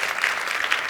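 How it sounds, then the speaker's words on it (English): An audience claps in a short, dense burst of applause that fills the whole moment without any voices over it. "please don't clap at that"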